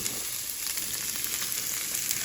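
Cabbage fries in hot avocado oil, a bright continuous sizzling hiss with faint crackles, loud and close with no voices.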